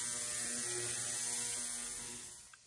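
Carburetor cleaning machine, likely an ultrasonic tank heated to 60 degrees, running with a steady electrical hum and high whine that winds down and stops near the end, no talking.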